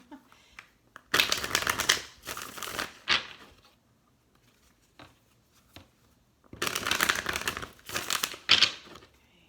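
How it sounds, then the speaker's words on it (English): Two bursts of tarot cards being shuffled up close, a rapid papery riffle lasting a couple of seconds each, separated by near silence. "Now they're saying I can shuffle this way."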